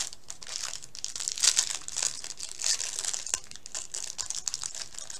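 A plastic package of foam tips is crinkled and torn open up close, giving irregular crackling and rustling bursts that rise and fall without any speech.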